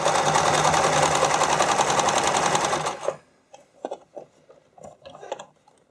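A sewing machine runs steadily for about three seconds, stitching a spandex skate cover pulled tight around a fold, then stops, leaving a few faint handling clicks and rustles.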